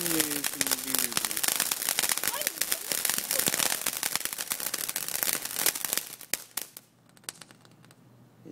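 A blooming flower firework burns in a long, dense run of crackling pops and fizzing bursts that fill the air, then thins out and fades into quiet.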